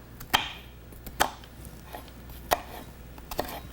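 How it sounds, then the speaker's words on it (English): A cook's knife scores a shallot on a cutting board, four distinct sharp chops spaced about a second apart, close and crisp with quiet gaps between them. "what I'm going to do is score this with my cook's knife"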